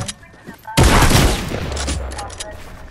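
A loud, close volley of gunfire in the video game Fortnite erupts suddenly and rings out into a rumbling decay, following a quieter lead-in.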